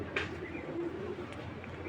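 Pigeons cooing in a loft of flying-breed pigeons, a steady low murmur of several birds close by, with no talk over it.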